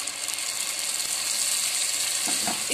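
Mutton paya masala, goat trotters cooked with brain, frying again in a pot after more stock is added, giving a steady close hiss and sizzle with faint stirring clicks near the end.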